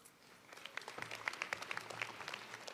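Faint, distant applause from a crowd at the University of California, Merced fall commencement, a brief burst of many hands clapping that rises and continues.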